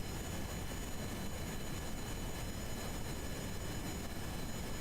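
A video-game aircraft engine in Kerbal Space Program flies over terrain, producing a continuous, loud, even roar with a steady drone and hiss that does not change, with no talking.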